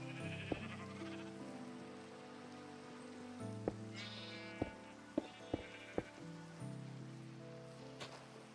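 Blocky sheep in Minecraft bleat repeatedly in a droning, overlapping chorus, with sharp clicks scattered throughout and rain-like game ambience underneath.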